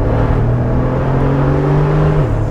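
A Mercedes G63 AMG 6x6 pickup truck accelerates hard, its engine holding a loud, steady rising drone with a strong low rumble before the pitch drops briefly near the end as it shifts, with no voices over it.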